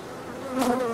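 Honeybees buzz steadily at an open hive, a close, dense drone that swells slightly louder toward the end.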